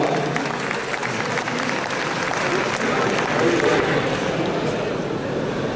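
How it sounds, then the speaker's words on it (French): An audience at a classic car awards ceremony claps steadily throughout, a dense, even wash of applause with no break, voices faintly mixed in. "un grand tonnerre d'applaudissements pour de l'essence dans mes veines"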